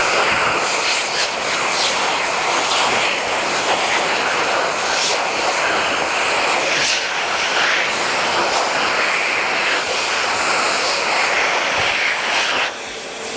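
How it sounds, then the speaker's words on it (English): A loud, steady high-pitched roar of a Tapillo Air Tap hand dryer at maximum power blowing continuously without pause, close by. "see how long it takes to dry my hands at that maximum power setting"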